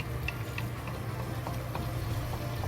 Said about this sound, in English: Now you can see it's boiling in the pot,